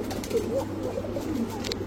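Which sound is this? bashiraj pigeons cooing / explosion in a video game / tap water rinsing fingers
bashiraj pigeons cooing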